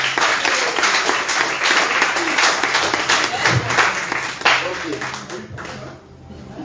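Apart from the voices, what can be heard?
congregation applauding in church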